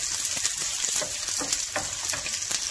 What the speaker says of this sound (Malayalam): വെളുത്തുള്ളി, സവാള, കൂടെ കരിവേപ്പിലയും ചേർത്തിട്ട്